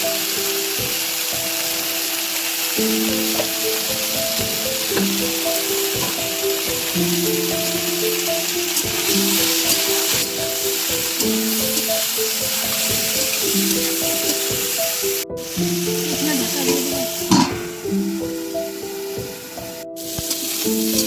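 Steady loud sizzling of pointed gourd frying in oil, continuous throughout with a faint tonal hum and occasional stirring clatter.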